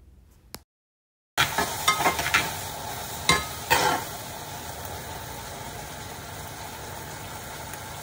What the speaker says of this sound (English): So the rest of the pineapple I'll leave in the pot and I'll be caramelizing that